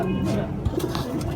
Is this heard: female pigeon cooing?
yes